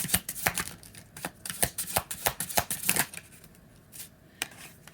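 A deck of cards is shuffled for a tarot-style card reading, giving a quick, irregular series of sharp riffling snaps and taps, close and fairly quiet, with no talking.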